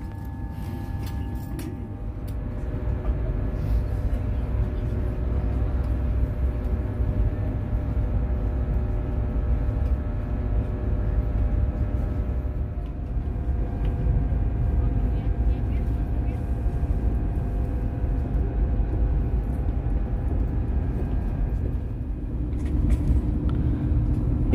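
High-speed train pulling out of Padalarang station, heard from inside as a steady low rumble and whir that builds and holds for the whole stretch, with faint clatter on top.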